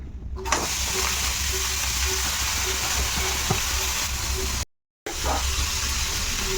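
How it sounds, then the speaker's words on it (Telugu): Sliced onions sizzle steadily in hot oil for an onion chutney, a loud, continuous broadband hiss with faint clicks of stirring, briefly cut to silence near the end before resuming. "ఇక్కడ ఆయిల్ వేసుకున్నాను మధు ఇందులో ఉల్లిపాయలు వేసేస్తున్నాను"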